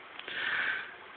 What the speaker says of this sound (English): My dog's sniffing at the door.